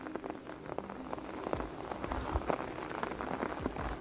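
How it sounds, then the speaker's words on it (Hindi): Heavy monsoon rain pours steadily in mountain country, a dense, continuous hiss of drops drumming on surfaces close by, with scattered louder splashes and no voices. "आप देखिए बारिश लगातार रुकने का नाम ही नहीं ले रही"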